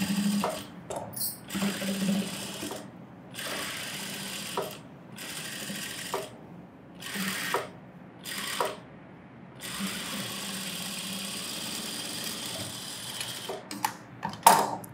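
A sewing machine runs edge stitching along the neckline of a child's blouse in several mechanical bursts separated by short pauses, close and clear, with no talk.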